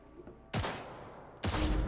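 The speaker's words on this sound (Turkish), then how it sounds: "Let's blast through a tactical target practice program." Two sharp bursts of gunfire on a tactical target practice range in the video game Cyberpunk 2077, each a loud crack with a short ringing tail, the second about a second after the first.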